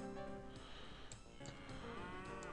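A cartoonish cow moos from a farm in the transport simulation game OpenTTD, a drawn-out lowing call heard clearly and fairly loud against steady game background sound, with no voices over it.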